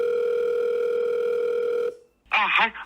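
A phone call to the Kasuien ryokan in Ureshino, Japan, carries a loud, steady telephone tone for about two seconds. It cuts off, and after a brief silence a voice answers on the line.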